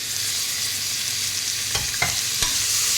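Three finely chopped onions sizzle as they fry in a pan, a steady close hiss broken by a few soft knocks of stirring, with no talking.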